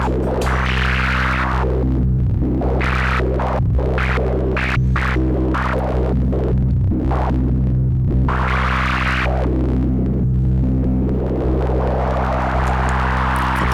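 A modular synthesizer drones loud and continuous, its filter cutoff swept by a slow LFO so the tone opens and closes in long, wavering throbs over a heavy low hum.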